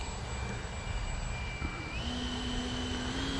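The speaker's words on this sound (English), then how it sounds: "I'm going to take off with just a click of flaps this time" An E-flite Viper 70mm electric ducted-fan RC jet taking off with a notch of flaps: a loud, steady rushing whine with a thin tone that steps up in pitch partway through, continuous throughout.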